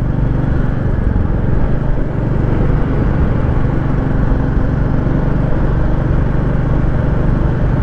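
A motorcycle rides along Shohra road in Meghalaya: a loud, continuous engine drone with wind rush, steady throughout and close to the mic, with no voices.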